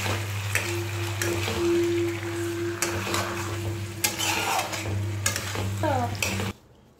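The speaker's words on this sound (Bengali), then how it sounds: "শুধু তেলের সাথে মাংসগুলো আগে ভেজে নিব ভালোভাবে।" Meat frying in oil in a pan over a low gas flame, a continuous soft sizzle with a steady hum beneath and intermittent stirring scrapes and clinks, ending abruptly.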